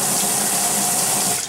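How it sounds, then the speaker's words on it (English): Steady rush of water running from a tap during home beer brewing, loud and close, continuous for the whole moment with no voices. "And if you heard that water turn on,"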